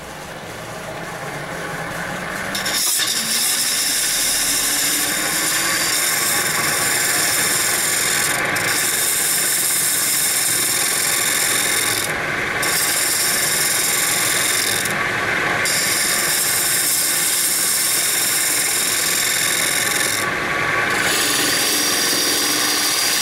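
Wood lathe turning an old, oily Indian rosewood bowl spins up from a low hum into a loud, steady whine, with periodic brief shifts as the tool cuts, close and continuous, no talking.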